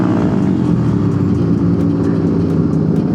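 A motorbike on a Sunday-morning group ride to Pratin in Purbalingga accelerates to overtake, its engine a loud, close, continuous drone with a steady low rumble and no pauses.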